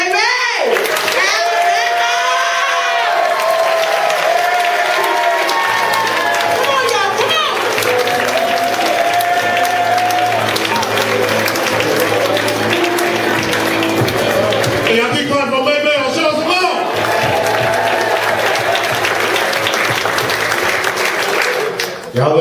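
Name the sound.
audience applause and cheering at comedy club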